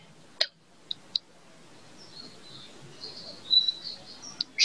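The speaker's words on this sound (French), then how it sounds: "Tel le chant de l'oiseau que l'on écoute" Sparse, faint bird chirps in a quiet outdoor setting: a few sharp isolated tweets early on and a brief thin warbling call later, over a soft hiss of insects.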